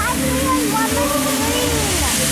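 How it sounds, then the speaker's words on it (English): Blue waterfall at Santuario in Nuevo Vallarta, Mexico, pouring and splashing steadily close by, with a voice speaking over the rush of water. "Look at the blue waterfall."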